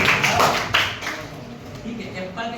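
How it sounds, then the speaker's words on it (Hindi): Several sharp hand claps ring out during a village children's lesson, spaced unevenly over a couple of seconds, with a voice talking underneath. "ताली बजा"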